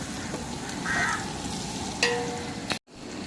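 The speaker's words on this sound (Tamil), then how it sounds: "கடலை எண்ணெய் நல்லா பொரிஞ்சிட்டு இருக்குது வெங்காயம் பார்த்திங்கன்னா நல்லா ரோஸ்ட் ஆகும்" Onions fry in a mix of groundnut and coconut oil, giving a continuous dense sizzle with a couple of sharp utensil knocks near the end before a brief dropout.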